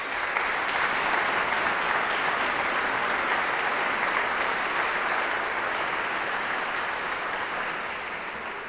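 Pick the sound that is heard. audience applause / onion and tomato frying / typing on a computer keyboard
audience applause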